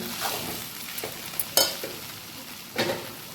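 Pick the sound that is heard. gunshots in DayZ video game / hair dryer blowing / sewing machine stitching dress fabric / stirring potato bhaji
stirring potato bhaji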